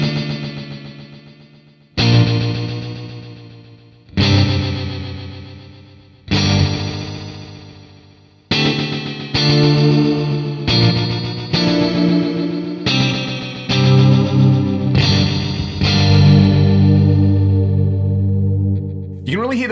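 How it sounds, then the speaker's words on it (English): An electric guitar plays through a Free the Tone Flight Time delay pedal set to a short delay time with high feedback. Seven separate struck chords decay in repeating echoes, then denser overlapping notes build into a thick, warbling, swelling wash. "kind of shortish delay time with a lot of feedback and just see if we can get this thing to kind of freak out"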